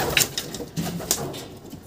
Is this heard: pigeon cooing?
yes